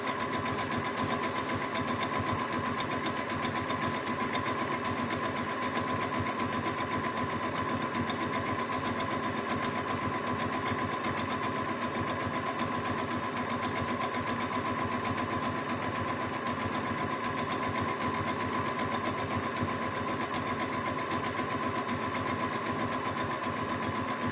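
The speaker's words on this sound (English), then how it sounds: "you don't have to worry about that as you're sewing, and you can just sew." A sewing machine stitches pillowcase fabric with a steady, continuous mechanical hum and rapid needle chatter, running evenly throughout at moderate level with no talking.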